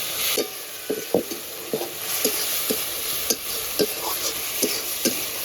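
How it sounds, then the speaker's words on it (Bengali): Water lily stems frying with garlic in a pan, stirred in a quiet, steady sizzle. A spatula scrapes and taps the pan at a roughly regular rhythm, close by. "এবারে শাপলাটা দিয়ে দেবো ঠান্ডামকে রান দিচ্ছে ভালো করে মিশিয়ে নামিয়ে নেবো"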